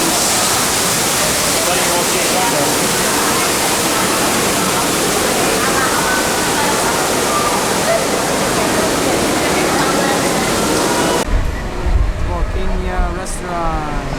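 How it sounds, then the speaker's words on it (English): Water rushes steadily and loudly from an outdoor hand-washing station at Tokyo DisneySea, then stops abruptly near the end, leaving quieter ambience with faint voices around. "You wash your hands in here."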